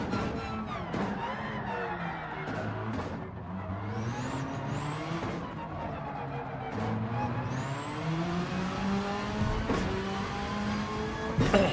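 Race car engine in Gran Turismo 7 running on racing hard tyres, revving up and short shifting through gears again and again, with rising pitch sweeps cut by quick shift drops; loud and steady, no talking.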